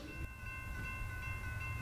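Union Pacific 6026, a rebuilt GE C44ACM diesel locomotive, gives a low, steady rumble beneath sustained horn-like tones, heard at moderate distance with no talking.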